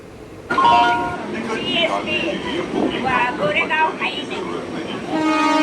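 A Mumbai suburban train bound for CSMT runs steadily with loud rumbling and rattling, a horn-like tone sounding near the start and end, while people talk over the noise.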